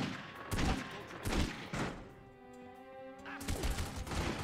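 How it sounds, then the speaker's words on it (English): A Tommy gun fires in rapid bursts in The Godfather PS2 game. Clusters of shots come at the start and again at the end, separated by a quieter tonal stretch, all at low volume. "the dude's got a fucking Tommy gun"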